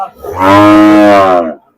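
A single bull lows at a busy cattle market near Keraniganj, Dhaka, one loud, close, drawn-out moo lasting over a second, with faint market noise around it.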